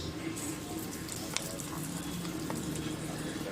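Hot tempering of mustard seeds and curry leaves sizzling as it is poured into peanut chutney, a steady low crackle and fizz throughout with one sharp pop near the middle.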